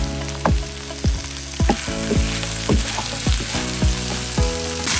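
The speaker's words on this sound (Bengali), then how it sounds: "আমি কিন্তু কেজি পেঁয়াজ আর তেল দিয়ে এটাকে ভাজছি" Onions, garlic and oil fry in a pan for a spiced rice and lentil khichuri with meat, a steady loud sizzle broken by about ten sharp scraping stirs at a regular pace, with no voices.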